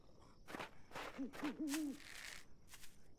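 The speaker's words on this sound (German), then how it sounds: "Ich höre schon wieder ein Uhu." An eagle owl in the video game Night of the Dead hoots a short, low, wavering call, faint and quiet amid soft rustling game noise.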